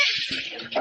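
Seawater is poured into a bucket, a brief splashing rush of liquid that is loud and close.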